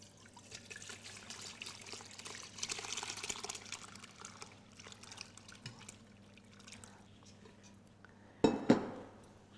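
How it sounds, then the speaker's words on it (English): Prepared quinces for jam or jelly tipped into a muslin-lined colander, a wet trickling pour building to a louder splashing burst near the end, heard alone without talk. "I am going to pour the prepared quinces"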